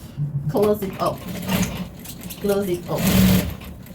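A sewing machine top stitches an apron closed, its motor whirring in short bursts beneath a voice talking throughout.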